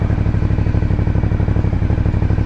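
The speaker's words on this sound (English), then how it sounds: "The exhaust sounds really good." A 2020 Aprilia Dorsoduro 900 motorcycle with carbon fiber exhaust covers runs with a steady, loud, throbbing engine rumble that holds even and continuous throughout, with no voices over it.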